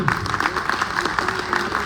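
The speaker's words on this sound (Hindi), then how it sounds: "थोड़ा सा जोरदार तालियां बजेंगे" An audience at a Hindi poetry recital (kavi sammelan) in Faridabad applauds, a dense, steady burst of many hands clapping that continues throughout.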